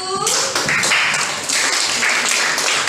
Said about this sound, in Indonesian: Tepuk tangan untuk kelompok 5 dan kelompok 1